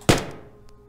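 A single gunshot in the video game Caves of Qud, a short sharp thump with a quick decaying tail and a faint click after.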